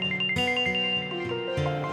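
A phone rings with a repeating electronic melodic tone, short chiming phrases looping several times, close and clear, with no talk.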